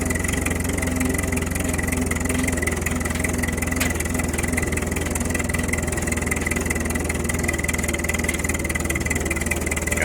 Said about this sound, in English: Kind of doing a governor test here in third gear to see how she's gonna pull down.